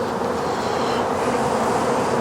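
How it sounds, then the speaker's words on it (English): Honeybees swarm thickly in an open hive, a dense steady buzz that fills the air close up, loud and unbroken with no voices over it. "we have bees wall to wall here"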